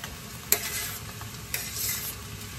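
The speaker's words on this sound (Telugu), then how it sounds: "కుక్ అయిన తర్వాత మనం ఆనియన్స్ యాడ్ చేసేస్తున్నాం" Onions stir-fry with half-cooked carrots in a pan, a steady sizzle punctuated by a few sharp spatula scrapes and clinks, close and with no talking.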